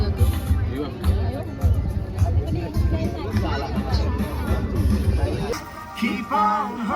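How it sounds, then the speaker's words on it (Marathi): A busy beach crowd at Central Beach on Singapore's Sentosa Island murmurs in steady babble, with close voices chatting over the hubbub. "खूप गर्दी आहे."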